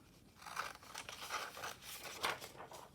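Scissors cutting paper for a journal page, a run of short crisp snips and rustling crinkles, close and soft, with no one talking.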